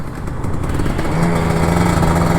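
An old Kawasaki Ninja RR 150 two-stroke motorcycle revs loudly up close while riding through Jakarta traffic, the engine note climbing and holding as the throttle opens.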